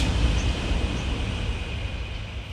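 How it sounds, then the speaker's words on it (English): A Kyoto-bound bullet train goes by at a distance, a steady broad rushing roar that eases off gradually, with no voices. "There's a good glimpse of the bullet train."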